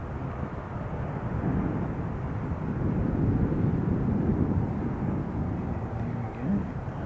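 An airliner takes off from Christchurch airport, its engines a steady, broad low roar that swells slightly as it passes low and fast and holds at a loud, continuous level without a break.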